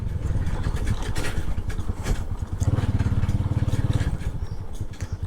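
A TVS Stryker motorcycle rides through a village on a rough road, its engine close and loud with a fast throbbing pulse and some rattling, and no voices.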